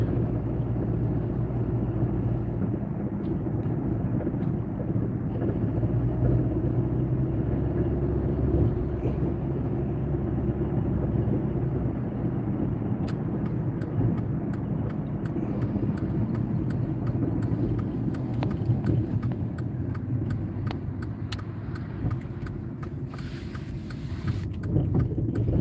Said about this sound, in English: my car makes a lot of noise taking the beating from the reservation road